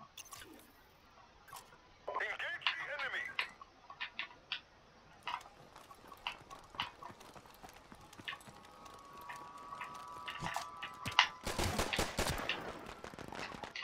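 Gunfire in Modern Warfare Remastered multiplayer, scattered sharp shots and short bursts at varying distances, mostly faint and quick, ending in a louder close burst.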